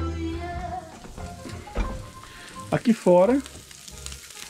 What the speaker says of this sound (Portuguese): O bolinho de bacalhau já está fritando